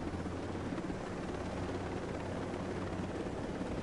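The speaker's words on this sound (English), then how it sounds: "So now I'm in a helicopter." A helicopter flies in a PS4 video game, its rotor drone a steady, continuous hum with a low throbbing pulse and no talk.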